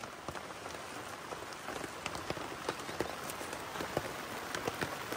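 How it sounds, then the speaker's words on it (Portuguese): Rain patters steadily on a tent while camping in the forest, with dense, irregular drops tapping nearby and a constant soft wash underneath, no voices. "Chuva!"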